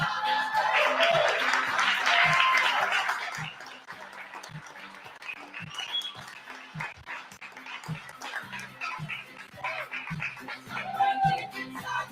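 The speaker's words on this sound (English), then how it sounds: "Everybody give them another round of applause." A burst of audience applause for graduates at a signing day event rings out for a few seconds, then gives way to scattered dog barks and quieter room noise.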